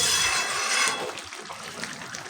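A pot of ridge gourd curry at a steady boil, giving a dense bubbling hiss that is loudest at first and then settles a little, with no talk over it.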